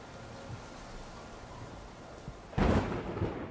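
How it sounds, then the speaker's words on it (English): Thunder rolls through a lightning storm in the medieval role-playing game Kingdom Come: Deliverance 2, a low rumble under steady rain that swells into a loud, broad crack and roll near the end. "Oh, scary lightning."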